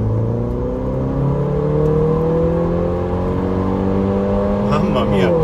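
Mercedes GLA with a stage 2 tune and exhaust, heard from inside the cabin while driving: a loud, steady engine drone rises through the revs as the car accelerates, with the pitch climbing and a burst of higher crackle near the end.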